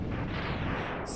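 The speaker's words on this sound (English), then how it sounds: "This explosion is ruining my health bar." A dense, continuous explosion roar in the Mega Man X game, sustained and loud across the whole moment with broadband rumble and a hiss rising near the end.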